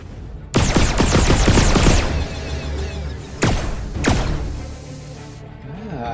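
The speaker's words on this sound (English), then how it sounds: "Gotta keep shooting until I hit, but at the same time I'm gonna run out of shots." Gunfire in the virtual reality game Red Matter 2: a rapid burst of loud, sharp shots followed after a pause by two more separate heavy blasts, with no talking.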